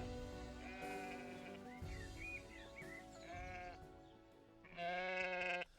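Several sheep bleat at varying distances, the calls overlapping in bursts, with a loud, close bleat near the end.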